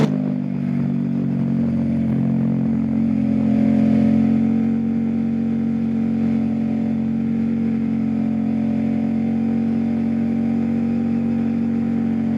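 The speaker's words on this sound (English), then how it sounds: "just get the bike out, get it a chance to stretch his legs a little bit, get it up to highway speeds, go through all the gears." A motorcycle engine holds a loud, steady drone close by, swelling briefly before settling back to an even hum as it cruises.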